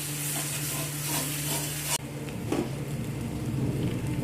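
Cumin, turmeric and a little chili powder stirred together in a hot pan, giving a steady close sizzle with scraping stir strokes, a sharp change in texture near the middle as the spices go in, no talk.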